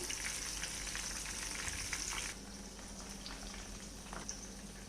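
Fish fingers frying in hot oil, a steady crackling sizzle with dense bubbling that eases slightly partway through, close and continuous with no voices.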